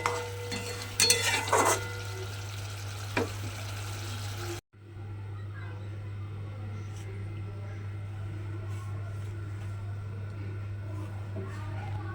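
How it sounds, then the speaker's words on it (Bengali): Garam masala powder is stirred into a simmering catla fish curry, with a soft bubbling hiss and a few spoon scrapes early, then a quieter steady simmer over a low constant hum; no one talks. "এর মধ্যে দিয়ে দেব অল্প সামান্য একটু গরম মশলার গুঁড়ো দিয়ে খুব ভালোভাবে মিশিয়ে নিলেই"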